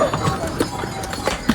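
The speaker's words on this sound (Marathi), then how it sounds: "बघा घोडे बघा किती येतात" Horses travel the Kedarnath pilgrimage trail, their hooves clip-clopping in a quick, uneven stream of close, fairly loud hoofbeats.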